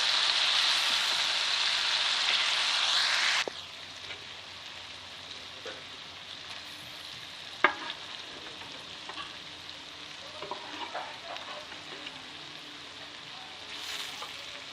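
Mutton pieces sizzle in oil in a pan, a loud hissing burst at first that drops to a quieter steady fry with scattered clinks and spatula scrapes; no speech.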